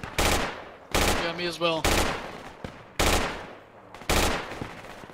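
Bursts of automatic gunfire in Project Reality, a military shooter, firing on an approaching technical: about five loud, sharp volleys spaced roughly a second apart, each decaying with echo, with a brief voice between shots.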